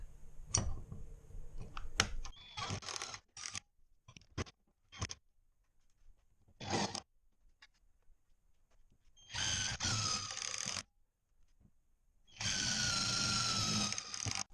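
Power drill driving self-tapping screws while installing a LiftMaster garage door opener, with scattered handling clicks and taps, then two sustained whirring drill runs near the end, close and with no talk.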